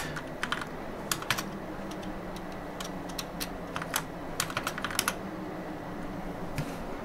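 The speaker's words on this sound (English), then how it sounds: "Am I typing this thing right?" Typing on a computer keyboard in bursts of quick clicks and scattered single keystrokes, close and fairly loud, with no talking.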